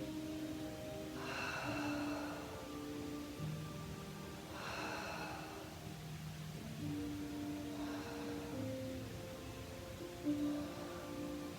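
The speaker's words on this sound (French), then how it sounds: "Inspire en descendant, souffle en remontant." Slow, deep breaths during a Pilates exercise, three long airy exhales spaced a few seconds apart, close and soft over quiet background music.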